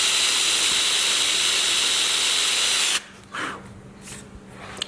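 A power drill boring holes partway into wooden ladder shelves runs loud and steady for about three seconds, then cuts off, leaving quieter workshop handling noise.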